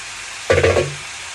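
Vegetables are dropped into a hot Indian tadka, or tempering, in a pan, setting off a short burst of sizzling and hissing that fades back to a low background after about half a second.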